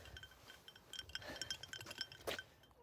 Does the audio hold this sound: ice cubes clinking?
yes